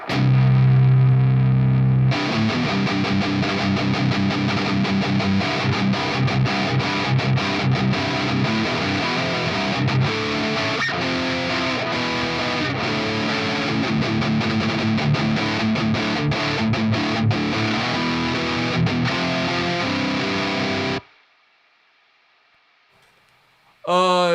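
Heavily distorted electric guitar, a PRS Archon MK2 amplifier, plays loud and steady for about twenty seconds, then cuts off abruptly, leaving near silence and a brief faint tail.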